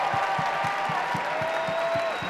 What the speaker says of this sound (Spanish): uniros conmigo para darle un aplauso a todos estos chicos aquí